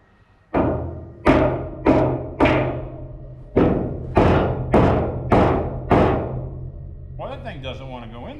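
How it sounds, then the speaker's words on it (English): Nine heavy, ringing blows from a big hammer strike one after another at a steady pace, close and loud, while fitting a new deck on a gooseneck trailer, followed by a short spoken remark. "Hammer, I need a hammer."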